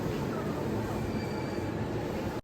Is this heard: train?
yes